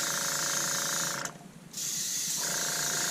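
A cheap Master Airbrush spraying thinned paint while building a Tamiya 1/16 RC M551 Sheridan tank, a steady close hiss that cuts out briefly midway, then resumes.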